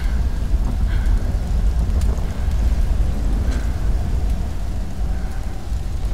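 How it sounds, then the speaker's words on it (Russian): Rain and wind hiss steadily through a thunderstorm in the video game Tomb Raider (2013), with low rumbling beneath and a few faint cracks, continuous and fairly loud. "Ничего себе, молния ударила"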